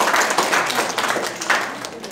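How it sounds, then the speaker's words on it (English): An audience claps for a speaker from the Department of Anatomy at a teaching session, a brief burst of brisk, close hand claps that thins out toward the end. "Give her a clap."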